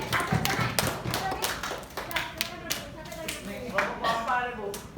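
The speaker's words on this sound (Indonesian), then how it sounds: "tepuk tangan untuk kelompok Spiritus." Students in a classroom clap for a group in a burst of uneven, closely spaced hand claps, with taps and thuds around them and voices speaking under the clapping.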